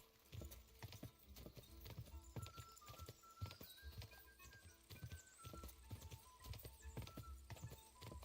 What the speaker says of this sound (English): Pretty decent horse.